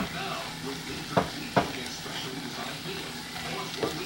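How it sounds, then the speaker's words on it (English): Onions, peppers and mushrooms fry in a pan for cheesesteak, a soft steady sizzle with a few sharp stirring clicks and scrapes near the middle and end. "I am going to fry this up a little bit"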